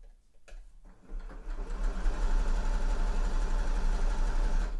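A sewing machine stitches a sweatshirt pocket bag to its facing, starting with a few short bursts and then running steadily and loudly with a constant mechanical whir, no talking.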